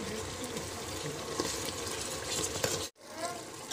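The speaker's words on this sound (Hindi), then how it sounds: "अच्छे से मिक्स कर लेंगे।" Spices being stirred into mutton paya curry in a pan, with a steady scraping, sizzling churn and occasional louder scrapes, briefly cut off near the end.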